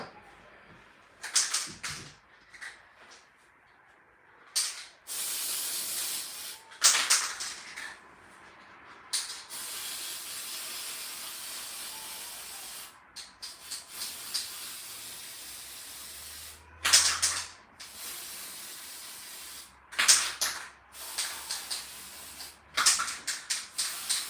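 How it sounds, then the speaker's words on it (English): Gold spray paint hisses in short, repeated bursts onto birthday cake decorations, each spray a loud, close rush of air separated by pauses and light handling noises. "I'm going to spray everything gold again using my gold spray."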